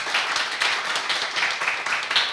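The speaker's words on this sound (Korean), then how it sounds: "다시 한번 발표해 주신 양희영 교수님께 큰 박수 부탁드리겠습니다" Audience applause for Professor Yang Hee-young after her presentation on single-mother self-help group outcomes, a steady wash of clapping from a seated crowd that holds even and fairly loud throughout.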